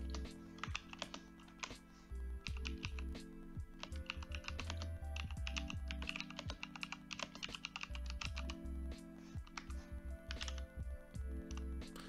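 Steady typing on a computer keyboard while writing sample text into an index.html file on a CentOS or RHEL 8 machine, with crisp clustered key taps in quick uneven runs and occasional louder strikes, close and clear.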